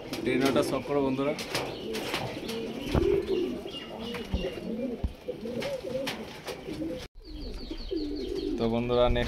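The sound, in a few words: pigeons cooing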